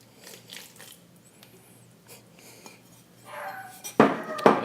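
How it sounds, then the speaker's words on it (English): Chickpeas tipped into a pot of vegetarian chili, a wet clattering rush near the end, preceded by quiet kitchen handling sounds. "now we're going to add the chickpeas."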